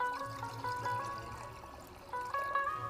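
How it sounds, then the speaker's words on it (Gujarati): Water poured into a clay pot set on a stove, a trickling, gurgling pour with ringing tones that rise and fade, then resume near the end. "હવે એની અંદર આપણે થોડું પાણી નાખીએ."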